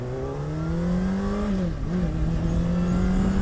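A 2017 Honda CBR600RR sport motorcycle engine drones and revs while riding, a strong steady tone that dips briefly with a gear change then climbs again, loud and close over wind rush.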